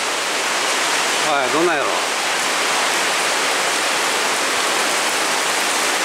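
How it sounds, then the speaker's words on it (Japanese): Heavy rain pours down onto and around a covered shopping arcade in Yamato-Takada during a heavy rain warning, a steady, loud, roaring wash of water with no break, while someone speaks briefly partway through. "まだ雨強くなってますよね"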